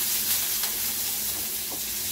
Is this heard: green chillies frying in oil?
yes